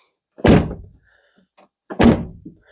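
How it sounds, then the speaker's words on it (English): A Land Rover TD5 door with a faulty catch is shut twice, each a heavy close thunk about a second and a half apart, with quiet in between. "This door has gotten worse. It's really annoying. Never shuts."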